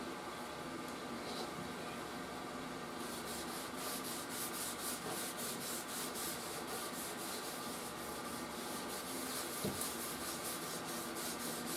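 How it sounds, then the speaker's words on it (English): Steady scrubbing and rubbing of old wood on a Crosley 6 radio cabinet, the finish being stripped with lacquer thinner down to bare wood, a continuous close, moderately loud friction with a faster rasping rhythm later on. "I'm using enough lacquer thinner to just literally strip it off completely"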